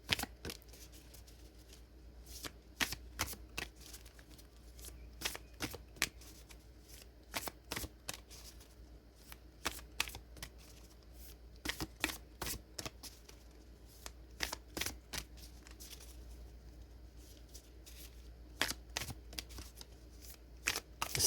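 Tarot cards being shuffled by hand, a steady run of quick riffling flicks and soft slaps repeated across a long stretch, quiet and close, with no talking.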